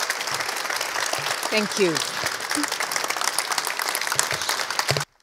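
A room full of people at a keynote on the main stage applauds steadily and warmly, with a short spoken thanks partway through as the clapping continues, then it stops abruptly.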